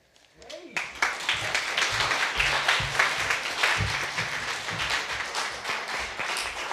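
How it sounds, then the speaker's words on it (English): Audience applause at a school storytelling event, steady clapping from a crowd that swells in after a quiet start and holds at a full, even level. "let's give a round of applause for Kayden Miller."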